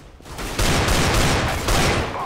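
Rapid gunfire rattles in Counter-Strike: Global Offensive, loud close bursts of automatic shots in two dense volleys with no voices over them.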